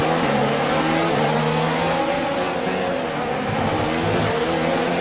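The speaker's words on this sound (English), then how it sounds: "Pushing this car really hard through here, trying to make up the most amount of time so we can get past Magnussen here on the back straight." F1 car from the F1 video game racing through the Baku street circuit, engine held at high revs with steady, loud whine and subtle pitch shifts throughout, no talk.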